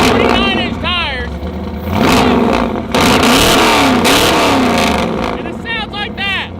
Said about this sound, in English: this is a Ford Ranger with a 460 big block in it, 39-inch tires.